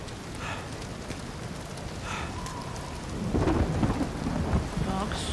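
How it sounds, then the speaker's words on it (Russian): A thunderstorm with heavy rain in the video game Uncharted 4: a steady, dense downpour with rumbling thunder that swells louder partway through. No one speaks. "Начался ураган и буря."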